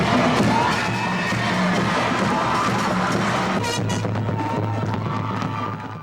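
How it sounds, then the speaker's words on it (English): A whole student body cheers loudly at a high school pep rally in the Lions gymnasium before a state championship football game in 2000: a dense, continuous roar of shouting and whooping voices that echoes in the gym. "The entire student body gathering in the Lions gymnasium, cheering on the players and the coaches."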